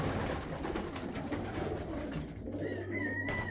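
Pigeons inside a pigeon loft give soft, low, repeated coos over a steady rustling background, with a faint higher chirp near the end and no talk.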